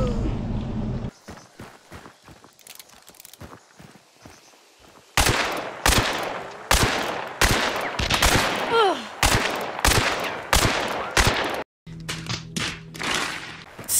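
Sharp, close gunshots in Hunt: Showdown, firing in spaced bursts with hard attacks and brief echoing tails, plus a few quieter thumps and movement sounds between the shots.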